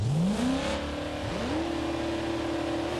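A 1960 Gavril Bluebuck with the 292 engine revs in a video game, its tone sweeping upward in two climbs and then holding a steady, loud, close drone with no talking.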